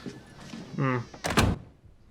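Door pushed shut with a firm thud and latch click near the end, following brief speech and movement in a room.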